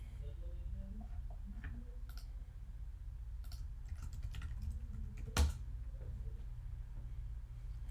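A computer keyboard is tapped to enter a login ID and password, giving faint, scattered key clicks over a low background hum.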